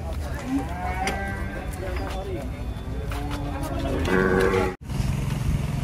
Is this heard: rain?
no